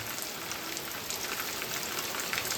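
Steady rain falls continuously, a dense even hiss of drops striking a surface close by, with no voices.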